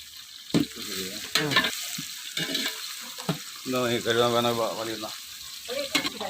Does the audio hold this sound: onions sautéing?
yes